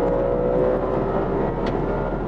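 From inside the cabin of an Audi RS5 with a naturally aspirated V8, a steady, muffled engine drone hums under road noise at a moderate level throughout.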